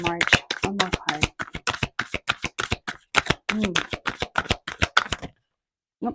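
Tarot cards being shuffled, a rapid series of sharp riffling slaps and taps in an uneven rhythm, close and loud, ending abruptly with a last single snap after a pause.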